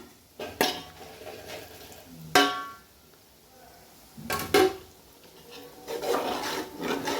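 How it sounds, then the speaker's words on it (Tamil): A metal spoon scrapes and clanks against a cooking pot of kichdi in intermittent stirring strokes, with quiet gaps in between. "போட்டு நல்லா கிளறி விட்டுடலாம்"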